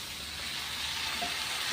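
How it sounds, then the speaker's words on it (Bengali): Gobindobhog rice frying in a pan for a spice-free pulao, a steady close sizzle with a few soft stirring scrapes near the end. "চালটা কষা হচ্ছে তো, এখন সব দিয়ে দিতে হবে"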